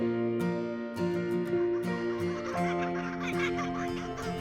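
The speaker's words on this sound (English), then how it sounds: "Can you hear that? It sounds like someone laughing. Oh, it's a kookaburra." An Australian kookaburra in the outback gives its laughing call, a run of loud, repeated harmonic cackles that rise and tumble in an excited rhythm, close and clear.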